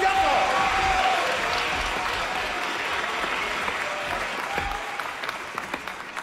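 An audience at a dance contest applauds the contestants in a sustained, even burst of clapping that gradually eases off, with a few sharper claps near the end.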